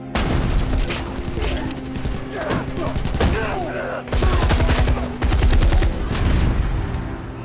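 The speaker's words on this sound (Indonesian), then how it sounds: "Tembakan meledak di seluruh ruangan." Loud bursts of rapid gunfire inside a room in a film, repeated volleys rattling almost continuously with booming impacts, briefly cutting out before resuming.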